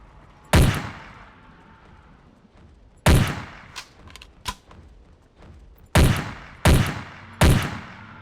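Five loud, separate gunshots from the dinosaur-hunting game Carnivores, each with a sharp crack and a decaying tail, spaced irregularly over several seconds with a couple of softer thuds between them and no talking.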